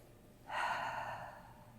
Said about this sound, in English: Just take a few deep breaths in.